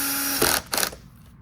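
A power drill driving wood screws into a subwoofer enclosure, its motor whirring then cutting into two short ratcheting bursts as the clutch slips, close by and fairly loud.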